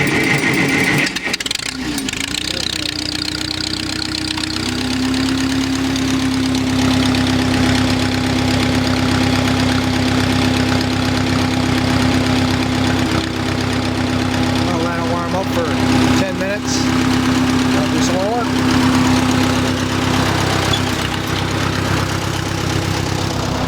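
A small engine cranks over with the choke set, catches and settles into a steady idle, running loud and close for the rest of the stretch, with a voice occasionally heard over it.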